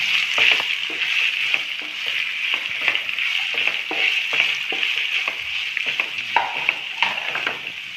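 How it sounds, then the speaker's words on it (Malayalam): Three large chopped onions and six green chillies sizzle loudly in a hot pan for a chicken stew, a steady frying hiss broken by repeated stirring scrapes throughout. "മൂന്ന് വലിയ സവാള അരിഞ്ഞതാണ് അത് ഇടുവാണ് അതിൻ്റെ കൂടെ തന്നെ ഒരു ആറ് പച്ചമുളകും"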